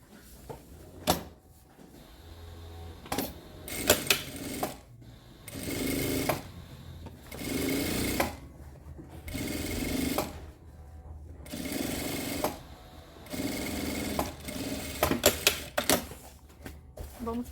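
A sewing machine stitches the lining of a laptop case in bursts, each run of rapid needle clatter lasting about a second, separated by short pauses and handling clicks.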